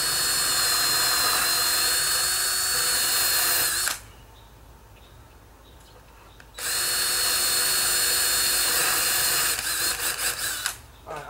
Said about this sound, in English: estimate where the drill is going to exit the wood